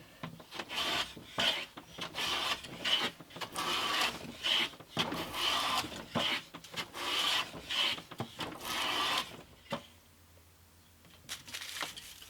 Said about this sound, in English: Probably taking too thick a shaving.